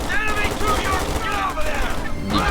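Rapid bursts of gunfire in Company of Heroes 2 crackle continuously, dense and loud, with overlapping shots and faint voices mixed underneath.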